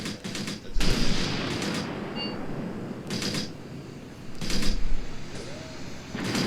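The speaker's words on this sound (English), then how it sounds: "I'm going to keep firing at them." Gunfire in Graviteam Tactics during a Soviet-Afghan War holding battle: a few separate crackling bursts of rifle and machine-gun fire at moderate distance, with pauses between them.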